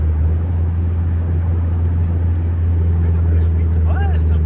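A 1982 Toyota Cressida diesel engine running, a loud, steady low drone from inside the moving car, with road and wind noise around it and a brief voice near the end.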